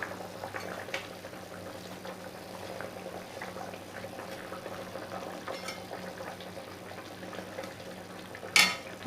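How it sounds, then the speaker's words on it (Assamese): Water for a fish curry boils steadily in a pot, a close bubbling burble with occasional faint utensil clinks and a sharp clatter near the end, no talking. "এয়া চাওক ইমান ধুনীয়াকৈ উতলি আহিছে"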